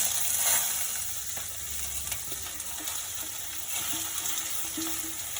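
Onion and cumin frying in hot oil for a potato-carrot sabzi, a low steady sizzle with occasional spoon knocks and scrapes against the pan.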